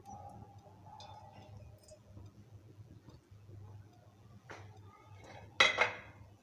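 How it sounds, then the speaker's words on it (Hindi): A cooking pan set down before oil goes in: faint kitchen clinks over a low steady hum, then a sharper metallic clatter near the end. "हम एक पैन लेंगे, इसमें 1/2 कप ऑयल डालेंगे"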